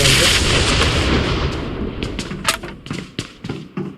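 In a video game, a thrown bomb detonates with a loud burst, then a run of sharp blasts and cracks fades into scattered bangs, with players talking faintly underneath.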